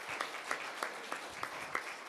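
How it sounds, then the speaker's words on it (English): Audience at an annual meeting applauds steadily, a dense, continuous clapping with regular louder accents throughout, heard from within the room. "So I would like all of you to applaud"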